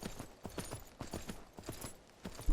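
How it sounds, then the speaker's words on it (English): Horse hooves clip-clop in Myth of Empires, a steady run of about a dozen close, crisp hoof strikes in a quick even rhythm with no talking. "He's a decent level horse"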